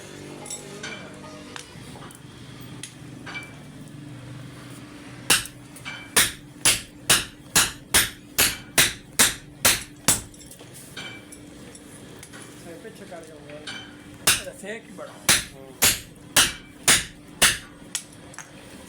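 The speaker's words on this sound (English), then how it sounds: "we start forging the pickaxe head, hammer strikes, and shaping from every angle" Rhythmic hammer blows ring out on a red-hot steel pickaxe head being forged, one run of about a dozen evenly spaced strikes, a pause, then a second run of sharp metallic hits, close and loud.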